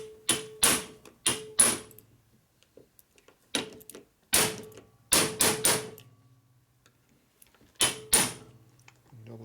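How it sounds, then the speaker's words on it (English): Screws being tightened on a 1942 Harley-Davidson 45ci WLA flathead transmission during a rebuild, heard as sharp close metallic clicks and taps in irregular clusters with quiet gaps between. "I didn't finish tightening those other two screws here."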